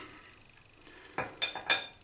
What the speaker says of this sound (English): That noise you just heard was an air freshener we've got in here.